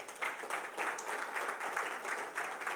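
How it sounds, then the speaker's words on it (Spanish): Applause fills a church service, a steady wash of many hands clapping together that rises and falls slightly in waves, moderately loud and with no clear talk above it. "Dale un aplauso al Señor."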